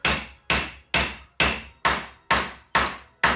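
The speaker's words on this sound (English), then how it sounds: "Now continue striking the race driver to seat the race all the way into the hub." A hammer strikes a race driver to seat a trailer wheel bearing race in a hub, giving eight sharp metallic blows at a steady, unhurried rhythm, close and loud with ringing decay between hits.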